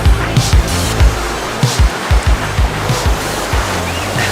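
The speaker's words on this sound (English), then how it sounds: "the sound of the waves, soft," Ocean waves on a Boracay beach with fine white sand, a loud close surf wash with repeated low thumps roughly every half second and no voices.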